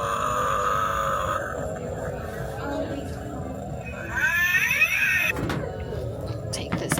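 An animatronic Halloween cat decoration gives off electronic meowing and yowling cries, with a warbling cry rising near the middle, heard over steady background noise and murmuring voices in a store.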